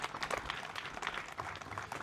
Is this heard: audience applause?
yes